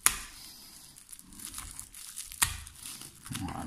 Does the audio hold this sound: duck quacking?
no